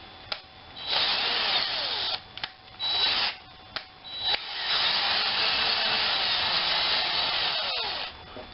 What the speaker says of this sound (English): you can chuck it up on your drill, but go slow